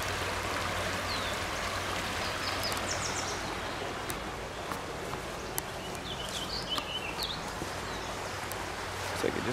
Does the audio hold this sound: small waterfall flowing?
yes